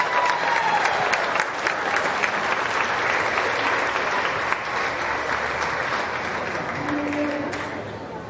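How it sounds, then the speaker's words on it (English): Sustained applause from a county fair crowd after the heifer class at the Putnam County Fair beef show, steady and dense for several seconds and slowly tapering, with faint speech beneath. "Let's give one more round of applause for those heifer exhibitors"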